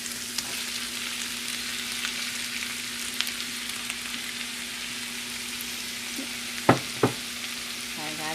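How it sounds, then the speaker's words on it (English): Beef frying in a pan with translucent onions and vegetables, a soft continuous sizzle with a low steady hum and a couple of sharp utensil clacks near the end. "I'm going to go ahead and add the meat so we can start browning it"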